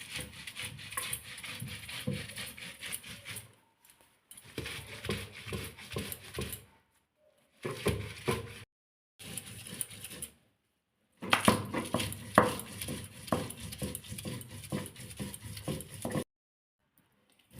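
Fresh mint leaves being ground a little at a time into a paste for pudina chutney, giving close, rhythmic scraping and grinding strokes in several bursts separated by short pauses, with no talking.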